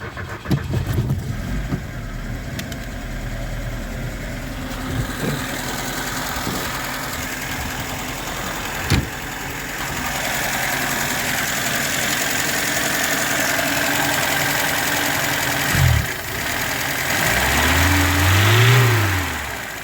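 A VAZ car engine idling unevenly, then revved in short bursts and a longer rise near the end, loud and close with no talking.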